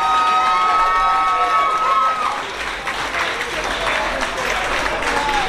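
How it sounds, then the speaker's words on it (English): An awards show audience cheers and applauds, clapping mixed with shouts and whoops, while a sustained tonal sound fades out early on; the crowd noise stays loud and lively throughout. "great round of applause"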